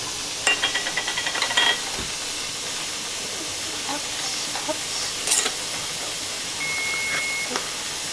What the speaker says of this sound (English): That steam hissing out is just wears on the nerves.